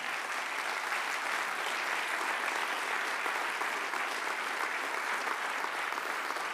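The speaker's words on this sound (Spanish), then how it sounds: "Dale un aplauso al Señor." A church congregation applauding during a sermon, a dense, even wash of many hands clapping that carries on steadily for several seconds at moderate distance, with no speech on top.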